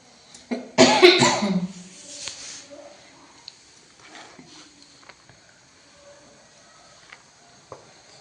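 A sudden, harsh coughing fit from a person cooking pithla bhakri, loud and close, a cluster of hacking coughs over about two seconds, then quieter kitchen clatter and small knocks.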